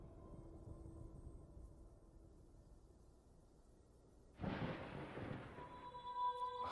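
A thunderclap breaks over a quiet stretch during a storm in the video game Wuthering Waves, a sudden broad crash that rumbles on at moderate loudness until the end.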